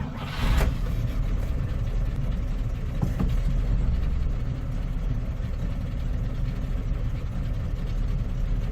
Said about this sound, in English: I think the idle's a little low